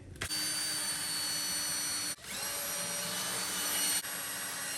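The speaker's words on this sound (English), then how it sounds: "So I'm gonna do my countersink." A power drill countersinking screw holes in bamboo flooring inside an RV, a steady high whine in two sustained bursts broken by short pauses, close and alone.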